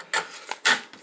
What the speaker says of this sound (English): Do I need scissors? Yeah, I'll use scissors.